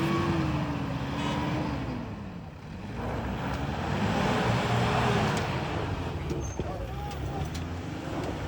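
An off-road vehicle on a competition track drones loudly and steadily, its engine pitch rising and falling as it manoeuvres, while someone talks over the noise throughout.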